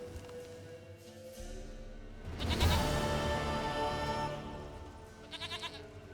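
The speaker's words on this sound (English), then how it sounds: "Goat of mine, dearest, sweetest goat." Goat bleats inside the Witcher 3 video game, several wavering cries rising over a background of game music, with a louder burst midway and quick repeated bleats near the end.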